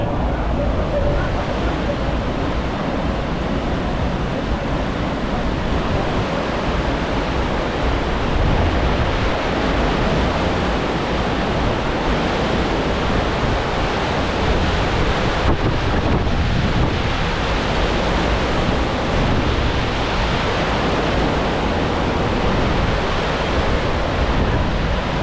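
Constant wind buffeting a microphone over the rush and wash of sea water alongside the cruise ship Arvia moving fast in the Caribbean, loud and continuous throughout.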